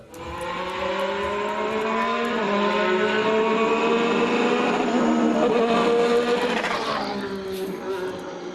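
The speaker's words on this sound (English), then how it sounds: "he gave us the chance to finally hear the new turbocharged engines" A 2014 Formula 1 turbocharged engine screams past during pre-season testing at Jerez, its pitch climbing through gears with shifting harmonics, loud and close, then fading slightly as it moves away.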